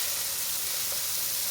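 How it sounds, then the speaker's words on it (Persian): Hamburger patties sizzle in a diet pan brushed with only a little oil, a steady, even crackling hiss that stays close and continuous throughout. "من مایتاب وزینی رو گذاشتم و همبرگرامو میشونم رو اینا"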